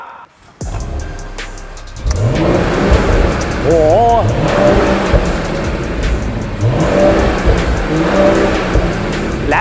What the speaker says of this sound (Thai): เดี๋ยวเราไปฟังเสียงท่อเดิมไปพร้อม ๆ กันเลย